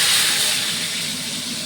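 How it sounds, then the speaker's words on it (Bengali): Black cumin, dried chillies and bay leaves hitting hot oil, giving a loud, dense, continuous hiss that holds steady and eases only slightly over a short stretch. "তেলটা গরম হয়ে গেছে, এর মধ্যে কালো জিরা দিব, কালো জিরা, শুকনো লঙ্কা, তেজপাতা।"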